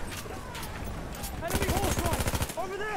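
Battlefield 1 gunfire, a fast burst of evenly spaced automatic shots in the second half alongside earlier scattered shots, under someone speaking Turkish.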